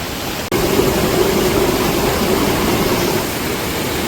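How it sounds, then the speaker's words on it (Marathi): Swollen Sawatsada waterfall near Chiplun in the Konkan monsoon roars as a loud, steady broadband rush of water, beginning abruptly after a brief cut and holding constant throughout. "पाण्याचा तुम्ही फक्त प्रवाह बघा किती जोरात आहे"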